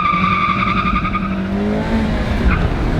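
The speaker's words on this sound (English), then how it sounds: "you rev the engine real high and dump the clutch" Mazda Miata with a manual transmission doing a burnout, the engine revved high and the clutch dumped, a loud sustained whine with tonal tire squeal that drops and fades toward the end.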